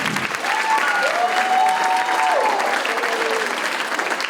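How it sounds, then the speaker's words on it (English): An audience at an Arangetram dance recital gives the dads a warm round of applause, a steady, full wash of clapping sustained for several seconds, with a faint wavering whistle-like tone drifting over it. "please give a good round of applause as well"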